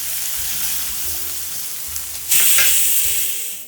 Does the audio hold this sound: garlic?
yes